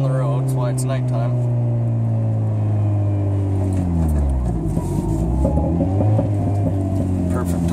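Exhaust of a 2003 Dodge Neon heard from inside the car at night with the windows up, a loud droning engine tone climbing steadily in pitch as it accelerates, then dropping and rising again after a gear change.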